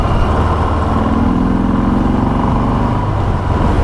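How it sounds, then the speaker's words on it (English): A Harley-Davidson Sport Glide motorcycle with an M8 engine runs steadily and loudly at close range, giving a continuous low, rumbling exhaust drone with no speech. "So the actual engine sound or exhaust tone is a little bit muffled"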